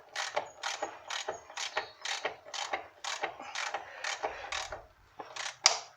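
A wrench works a rusty brake line fitting loose on a 2000 Dodge Durango, giving about a dozen evenly spaced ratcheting clicks and grinding creaks, close and fairly quiet.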